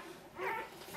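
Newborn puppies, bull-type dogs just after whelping, whimpering faintly in a short high thin whine that rises and fades, quiet and close with no talk.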